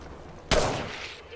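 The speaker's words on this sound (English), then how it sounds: "Opening fire." A single sharp shot bursts out suddenly in a video game firefight, its loud broadband crack decaying over about a second into a lingering wash of noise, with quiet ambience before it.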